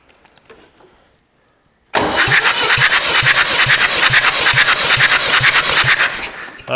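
A Massey Ferguson 65 tractor engine cranks on the starter during a compression test, a loud rhythmic chugging that starts abruptly after a short quiet pause with a faint voice and continues steadily for several seconds.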